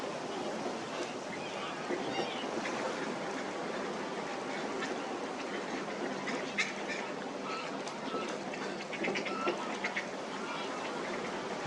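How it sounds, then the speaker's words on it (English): Ducks and geese call in a wetland setting, with quacks and honks scattered throughout over steady outdoor ambience. "And a bird which, as far as I know, isn't in decline, the mallard."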